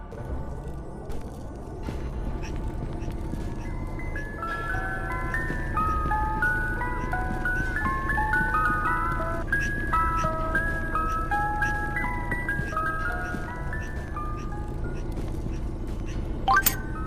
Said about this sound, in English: Another instance of this was the ice cream truck in the city campaign.